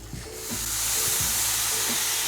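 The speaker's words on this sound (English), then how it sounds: "2 bits of Swiss cheese, and then we're going to steam that up." Pastrami fries layered with Swiss cheese steam on a hot griddle, giving a steady, loud broadband hiss of steam and sizzle that swells after a brief start and holds throughout, with faint low clatter underneath.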